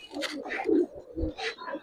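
Silver khaki Giribaz pigeons, a male and female pair of an old breed, coo softly in a few short rounded bursts, with a faint voice in the background.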